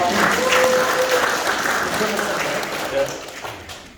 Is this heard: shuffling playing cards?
no